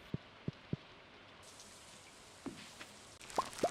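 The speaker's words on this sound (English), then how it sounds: "And we just happened to get rain on the 14th" Rain patters softly in the farming game Stardew Valley, a faint steady hiss broken by a few short, isolated taps and chimes.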